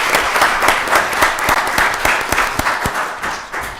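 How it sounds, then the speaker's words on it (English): Audience applause fills a Rockdale County Board of Commissioners work session: a steady burst of many hands clapping, close and loud, with no talk over it. "y'all give them another round of applause."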